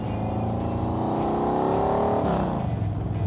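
Nichols N1A sports car engine under way, a loud, close droning note that climbs in pitch with acceleration and then drops, with no talk.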